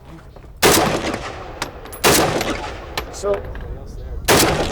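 Loud, close gunshots on a shooting range aimed at the black of paper targets, three heavy reports spaced a second or two apart, with smaller clatter between them and a brief voice.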